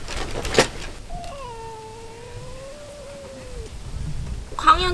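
A cat meows a few times, drawn-out, wavering cries in a quiet room, with a short sharp sound near the start and another at the end.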